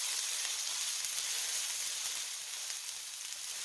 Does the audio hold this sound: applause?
no